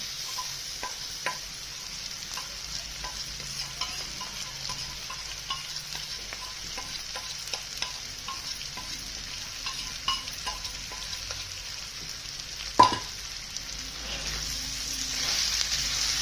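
Okra coated in gram flour fries in a pan with a soft, even sizzle, punctuated by light taps of a stirring spoon and one sharper clatter, fairly quiet and with no one speaking.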